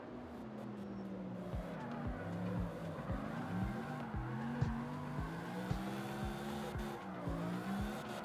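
A tuned Mustang drift car in CarX Drift, its engine revving and tires squealing in repeated wavering swells as it slides through a drift, steady and fairly loud with no other sounds.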